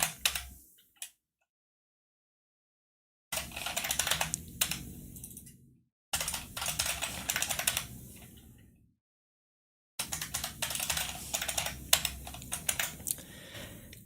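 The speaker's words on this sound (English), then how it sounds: "You guys like my keyboard sounds?" Typing on a computer keyboard at a desk, rapid clattering key presses in three or four separate bursts divided by full silences, close and crisp with no talking.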